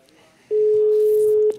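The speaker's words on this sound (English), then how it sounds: "We're now going to start by calling Helsinki, where the two editors of the book should be waiting by the phone" A telephone call being placed to Helsinki: a single steady electronic tone rings out for about a second, loud and clean against a quiet line, with a brief click at each end.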